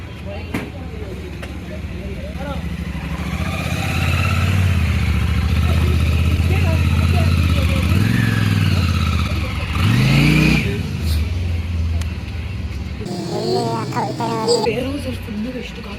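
A motorcycle engine runs close by, its steady low drone swelling with revs and a sharp rise near the middle, while people talk over it throughout.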